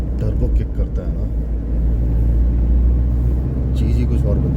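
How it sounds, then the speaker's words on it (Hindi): A Force Gurkha SUV is driven on the road with its turbo engine pulling hard, giving a loud, deep, continuous rumble as someone speaks over it. "भाई इस गाड़ी का जब टर्बो किक करता है ना,"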